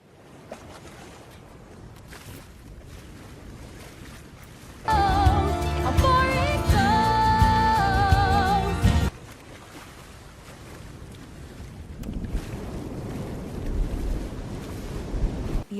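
A small sailing boat crosses ocean waves past a reef in Moana, with rushing wind and surf throughout and a loud swell of music in the middle.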